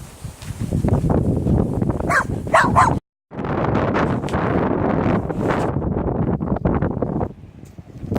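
A dog outdoors in Greece barks and whimpers briefly amid heavy wind noise. The wind-blown rumble dominates, broken by a short dropout.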